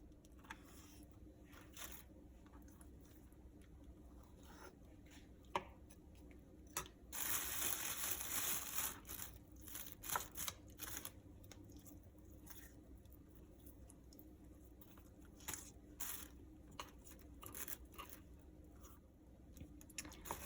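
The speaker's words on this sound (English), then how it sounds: "Now I'm going to peel them and de-seed them and de-stem them." Roasted green chiles are peeled, de-seeded and de-stemmed by hand, making soft, faint, wet squishes and sticky pulls in scattered bursts, with a slightly louder stretch of squelching in the middle.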